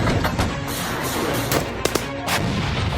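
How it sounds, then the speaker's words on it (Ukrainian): A heavy artillery cannon fires on a war front with a deep, rumbling boom, followed by a couple of sharp cracks over a constant roar of background noise. "Гармата!"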